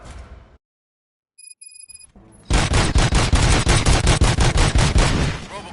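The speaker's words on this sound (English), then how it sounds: "Gunshots? What's going on?" Rapid automatic gunfire in the game RoboCop Rogue City, a loud, close burst of evenly spaced shots that follows a brief silence and a few electronic beeps, then tapers off at the end.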